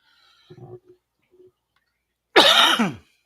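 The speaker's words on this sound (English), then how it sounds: "Sorry for the cough." A single loud, harsh cough bursts out after a few faint quiet noises, close to the listener.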